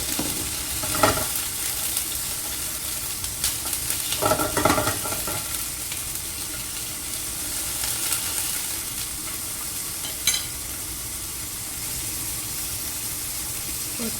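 Sausage fries in a little olive oil in a pan with a steady, fairly loud sizzle throughout, broken by a few clinks and stirring scrapes, close and with no talk.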